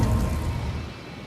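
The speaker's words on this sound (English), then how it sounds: "You hear the jet dryers in the background as they, along with the Air Titans, circulate here at Michigan International Speedway, drying the track after our second rain delay" Jet dryers and Air Titans circulate at Michigan International Speedway to dry the race track after a rain delay, giving a loud, broad rushing roar that eases slightly toward the end.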